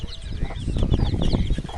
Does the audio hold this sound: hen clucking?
yes